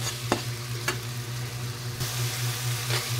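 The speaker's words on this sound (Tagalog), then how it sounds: "Prito lang muna natin yung patatas" Potatoes sizzle steadily in a hot pan, with a few scraping stirs of a utensil and a low hum underneath.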